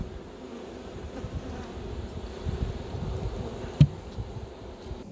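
Honeybees in an open queenless hive buzzing as a low, steady drone throughout, close and continuous with no talk, one brief knock partway through.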